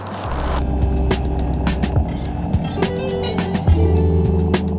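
A Royal Enfield Bullet 350 motorcycle rides at full throttle, its single-cylinder engine a steady, close, loud thrum with wind rushing past and occasional knocks and bumps on the road.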